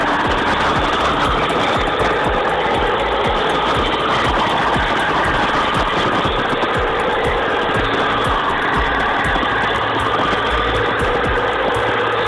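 A heavy machine's engine, on an excavator or bulldozer, runs loud and steady while climbing, its dense continuous drone holding without a break for the whole stretch, with no talk over it.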